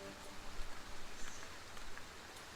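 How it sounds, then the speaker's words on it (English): Steady, hissing rainfall in the Foundation city-building game, a dense wash of drops with faint patters and no voices. "we would also like for the rains to stop, because the rains are heavily damaging"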